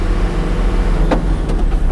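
Diesel engine of a Mercedes Unimog truck converted into a crawler camper, pulling away in second gear: a steady, loud low rumble runs throughout, with a brief clack near the middle.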